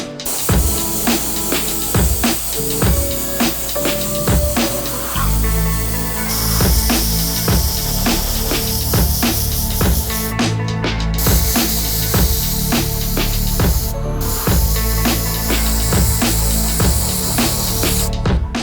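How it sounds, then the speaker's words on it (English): Spray paint hissing in repeated bursts as white paint is applied to the uppers of Nike Air Max 90 sneakers in a restoration, with short clicks and pauses between loud, close sprays, and no talk. "we got the uppers fully sprayed"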